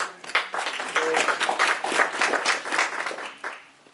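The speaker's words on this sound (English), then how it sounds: "a round of applause for those panels" An audience at a veteran business awards event applauds the earlier panels, a dense burst of clapping that swells quickly and holds for a few seconds before fading away.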